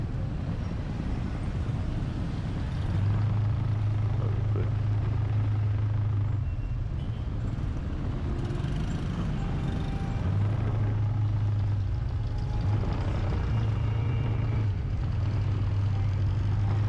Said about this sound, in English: Always a little traffic in this intersection here.